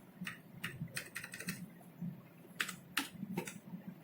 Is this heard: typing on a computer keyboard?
yes